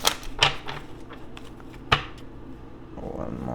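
Tarot cards being shuffled by hand: a few crisp riffling bursts and flicks spread unevenly, soft and close, with quiet gaps between them.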